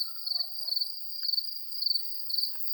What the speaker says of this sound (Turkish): çekirgeler ötüyor.